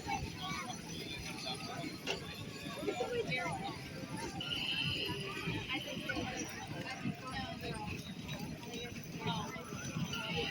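Hooves of a six-horse hitch team at a county grange fair horse show, a continuous rhythmic clip-clop at moderate distance, with an announcer talking over it and crowd noise behind.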